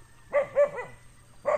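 A dog barks nearby at a fish pond during a white snapper fishing trip, giving three quick barks in a row, then a pause and one more bark.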